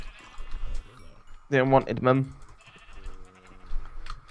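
Sheep in a video game bleating twice in quick, loud, wavering calls, heard close and mixed with game sounds and a speaking voice.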